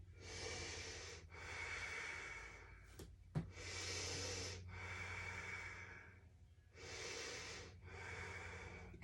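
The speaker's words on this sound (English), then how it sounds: "3 big breaths here." A person draws three big, deep breaths while holding a crescent lunge in a back-bending yoga session, each long airy inhale and exhale audible and close, with a brief sharp sniff between the first and second breaths.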